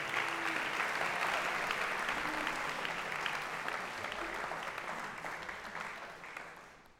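Steady applause from a crowd holds at a constant level, then slowly fades in a gradual natural decay toward the end.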